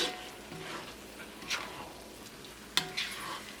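Kootu curry with roasted coconut is stirred in a pan, giving soft scraping and faint sizzle with a few sharp spoon knocks against the metal.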